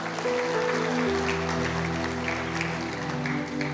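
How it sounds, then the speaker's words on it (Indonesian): Church congregation clapping at a worship service, steady broadband applause mixed over sustained musical tones from instruments, continuing evenly throughout. "Sekarang Welly, ya, kalau mau berikan tepuk tangan."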